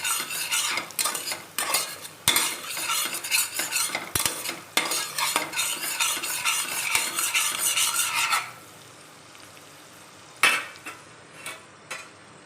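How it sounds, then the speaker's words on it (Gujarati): Spoon scraping and clinking in a pot as Kashmiri red chilli powder is stirred into toor dal khichdi, rapid close strokes for about eight seconds, then a quieter pause with a few last taps. "હવે આપણે તેમાં અડધી ચમચી જેટલું કાશ્મીરી લાલ મરચું એડ કરીશું તેનાથી આપણી ખીચડીનો સરસ કલર આવશે બરાબર આપણે હલાવી લઈશું"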